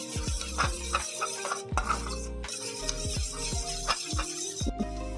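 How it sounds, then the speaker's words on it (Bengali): Sauce with vinegar is mixed in a pan with a utensil, giving repeated clinking and scraping strokes in a steady rhythm, close and moderately quiet, with no talking. "ভিনিগার, এটাকে মিক্সড করে নিচ্ছি।"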